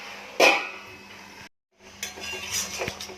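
A metal lid goes onto a pot of Bengali vegetable curry with a sharp clank, then a short silence before more clattering of utensils and cookware nearby.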